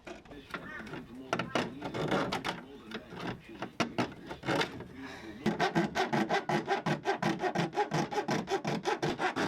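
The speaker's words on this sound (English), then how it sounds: "Trusty old hacksaw does everything." A hacksaw cuts through the metal guards on an Isuzu D-Max bull bar with steady back-and-forth strokes, close and rasping. The strokes are uneven at first, then settle into a fast, regular rhythm.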